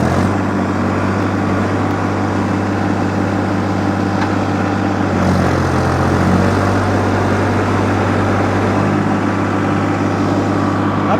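A Sonalika DI 55 tractor engine, stuck deep in a field, drones loudly up close, holding a steady rumble that rises briefly in pitch midway as it revs.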